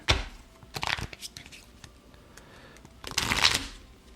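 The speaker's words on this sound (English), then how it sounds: "let's start doing our shuffles here." Playing cards shuffled at a tabletop roleplaying game session, two distinct bursts of riffling near the start and end with softer card handling between, close and alone without talk.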